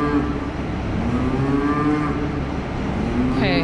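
Cattle heifers with a newborn calf: a loud, drawn-out moo close by, holding steady for several seconds over farm background noise.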